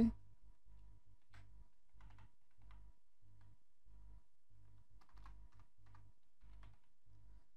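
Rapid, close computer keyboard typing with a steady rhythm of light clicks, including copy and paste shortcut presses, heard alone in a quiet room.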